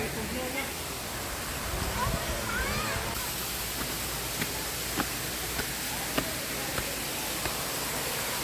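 A waterfall stream at a resort rushes steadily with a broad, close hiss of flowing water, and a few brief voices and light knocks sit under the constant flow.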